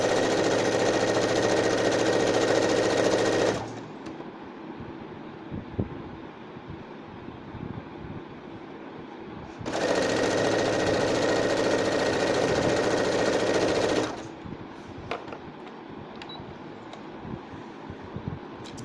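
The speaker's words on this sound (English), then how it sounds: "start sewing from the bottom, leaving 1/4 inch for seam allowances" A sewing machine stitches the seam of a double katori blouse in two steady, close runs of a few seconds each, with quieter handling noises between them.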